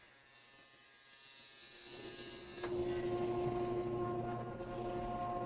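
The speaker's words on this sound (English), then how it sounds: "I have the vacuum on." A vacuum hums steadily in a dusty woodworking shop, joined partway through by a louder buzzing machine that keeps droning to the end, with no voices.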